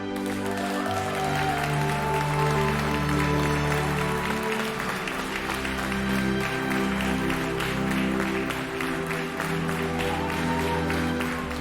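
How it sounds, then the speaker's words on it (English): Audience applause after a play, a sustained dense wash of clapping that fills the room steadily from start to finish, with low music or tonal sound running underneath. "everyone started applauding"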